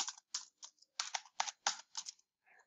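Rapid keystrokes on a computer keyboard entering a baseball team name into an electronic scoreboard for a tabletop baseball game, about ten crisp clicks in quick bursts, close and clear with no talking.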